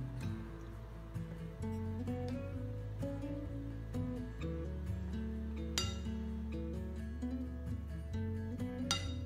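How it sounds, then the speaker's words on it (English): Egg mixture is spooned into muffin cups, giving faint sporadic clinks and taps of a utensil against containers over a steady musical background. "You wanna fill your muffin cups about 3/4 of its full size."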